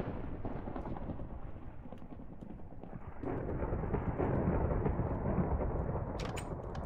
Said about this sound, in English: it's thundering like a motherfucker.